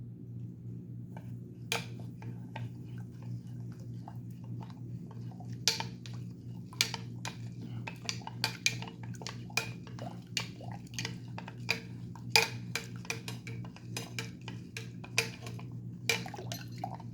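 A tool stirs titanium black anodizing solution in a container, sharp metallic clinks and taps striking the vessel in an irregular series over a low steady electrical hum, close and unaccompanied by voices.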